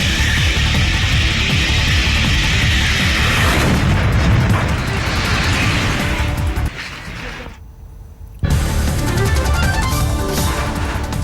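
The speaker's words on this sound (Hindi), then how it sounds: "सूडान के खर्तूम में गैस टैंकर में आग लगने के बाद जबरदस्त धमाका" A gas tanker exploding after a fire in Khartoum, Sudan: loud, dense, sustained blast and roar rumble across the clip, cutting briefly to near silence before resuming at full strength.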